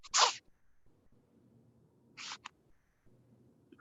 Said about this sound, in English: I'm hearing shuffling of papers.